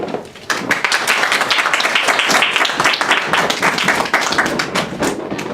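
Audience applause welcoming four speakers back onstage at an evening panel event, a dense sustained clatter of many hands clapping that fills the whole stretch at steady loudness.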